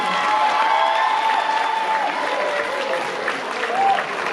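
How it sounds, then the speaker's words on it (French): Audience applause after a school dance show, steady clapping from a crowd with a few cheers, continuous and fairly close, with a voice speaking over it. "on peut encore plus les applaudir"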